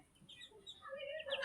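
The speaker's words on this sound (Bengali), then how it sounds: "এই যে পিচ্চি পিচ্চি কুটি কুটি হাঁসের বাচ্চা" Week-old ducklings give soft, high peeping calls. The calls are faint and short and grow slightly stronger toward the end.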